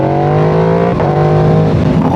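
An Aprilia RSV4 Factory motorcycle with a loud aftermarket exhaust revs hard nearby, its engine tone climbing and holding, then dipping briefly before rising again, loud and alone.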